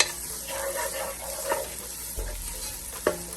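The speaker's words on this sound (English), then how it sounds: "Give it a stir." Green onions sizzle and fry in a pan while a utensil stirs them, with steady crackling and a few sharp scrapes against the pan, close and fairly quiet, with no talk.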